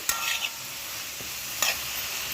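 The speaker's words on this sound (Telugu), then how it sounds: "పుదీనా వేసేసి బాగా కలిపేయాలి." A spoon scrapes and stirs through capsicum onion chutney as mint goes into the hot pan, with soft sizzling all the way through and a couple of sharper scrapes standing out near the start and again later.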